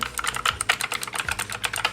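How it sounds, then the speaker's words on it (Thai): Keys clatter in a quick, even run on a blue-switch mechanical computer keyboard, each sharp click close and distinct, with nothing else heard over the typing. "นี่ภายในกล่องนะครับ ก็จะมีคีย์บอร์ดนะนี่ลองฟังเสียงก่อน"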